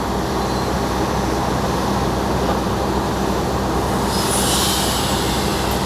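Cabin of a Taksaka stainless steel passenger train in motion, filled with a loud, constant rumble of wheels on rails and a brief rise of high squealing or hissing toward the end.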